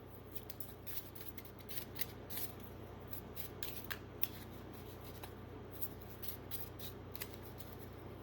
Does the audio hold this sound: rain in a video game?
no